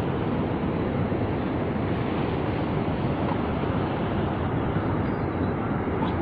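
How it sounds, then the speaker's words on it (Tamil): Fast-flowing Cauvery River water at Hogenakkal, heard during a slow river ride: a steady, loud, close rushing roar of churning water that holds unbroken throughout. "இப்போ பாருங்க எந்த அளவுக்கு போயிட்டு இருக்குது தண்ணி."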